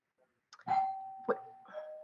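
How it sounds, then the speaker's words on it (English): A doorbell chimes once, its tone ringing out briefly and fading, faint and slightly distant. "just a little delivery at my door if you heard that doorbell ring."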